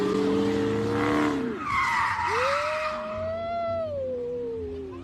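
A Dodge with a 5.7 engine does a burnout leaving a car meet, its spinning tires letting out a loud, sustained squeal that wavers and rises in pitch, with a brief dip midway and no voices.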